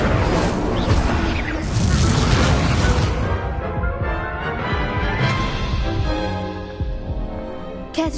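Incendio fire spell in Hogwarts Legacy, heard as dense rumbling booms and bursts of flame over a loud game soundscape that fades toward the end.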